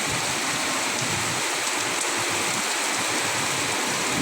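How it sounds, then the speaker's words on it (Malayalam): Steady, dense rush of heavy rain pouring down during a thunderstorm, a constant loud wash of water with no voices, though it could almost pass for rushing water. "ഈ ഉണക്കത്തെ ഇന്നാണ് നല്ലൊരു മഴ പെയ്യുന്നത്"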